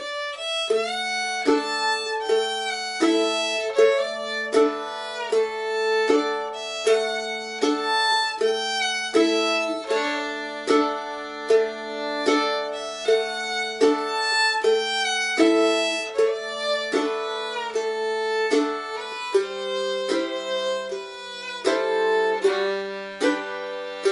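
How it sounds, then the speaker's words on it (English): Strummed mandolin chords keep a steady rhythm beneath a bowed fiddle melody, bright and close, with no voices. "If I demonstrate it with the fiddle player, it sounds like this."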